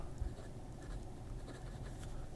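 A Lotus Titan fountain pen glides over paper with its nib reversed, giving a faint, continuous scratch in quick, soft strokes.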